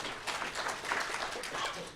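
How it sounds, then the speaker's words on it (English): Faint, distant round of applause for the treasurer at a shareholder meeting in Anchorage, Alaska, a soft steady patter of many hands lasting about two seconds. "We'll give him a round of applause anyway."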